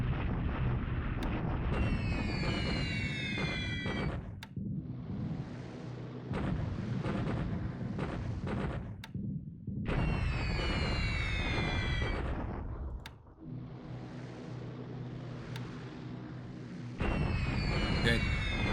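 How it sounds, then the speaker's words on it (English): Ground bombing explosions in the video game War in the Pacific, a series of loud, rumbling booms in repeated bursts with brief quieter gaps between them. "I'll get through these quickly because it's just ground bombing hitting these units here."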